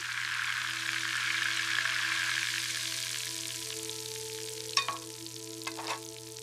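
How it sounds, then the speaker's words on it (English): Steady broadband sizzle of chicken frying in a pan, continuous and close, with a few brief clinks and scrapes near the end. "I'm frying the chicken."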